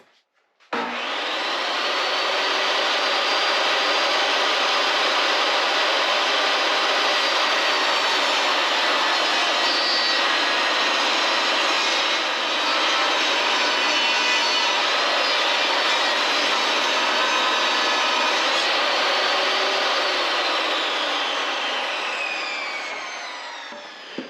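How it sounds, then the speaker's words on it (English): A table saw rips 6.5-inch-wide lumber into strips for window planter boxes, a loud, steady whine that starts abruptly, holds for over twenty seconds and then drops away as the blade spins down, with no speech. "We're going to go ahead and take these on the table saw, and we're going to rip them down."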